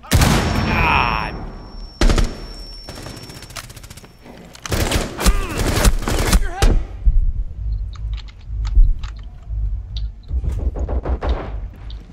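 Rapid bursts of automatic gunfire and explosions in a Rainbow Six Siege match, loud and dense at first, then scattered shots and blasts with voice chatter mixed in.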